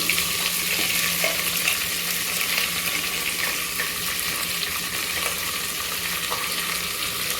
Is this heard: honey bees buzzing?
no